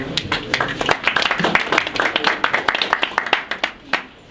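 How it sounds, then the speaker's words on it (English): An audience claps for a speaker at a morning talk, many hands at close range, loud and even, then the clapping thins out and stops near the end. "everyone give him a round of applause"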